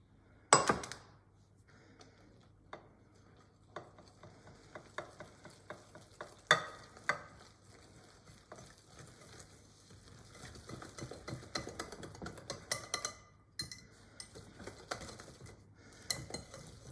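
Apple cake batter stirred with milk in a bowl, with quiet, steady whisking and scraping that grows busier toward the end, punctuated by a couple of sharp clinks of the utensil, no talking.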